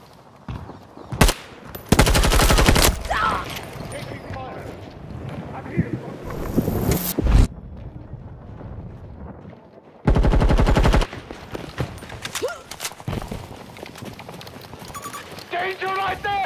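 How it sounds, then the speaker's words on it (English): Automatic gunfire from the Battlefield video game crackles in loud sustained bursts, with a long burst early on and another later, mixed with game voices and effects. "Taking fire."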